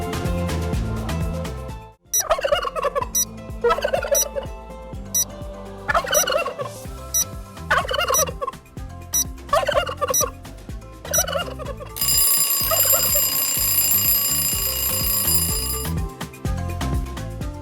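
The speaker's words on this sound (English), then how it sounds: "It's a turkey!" A turkey gobbles repeatedly in a series of rapid warbling bursts, each about a second apart, then a long ringing bell-like tone takes over.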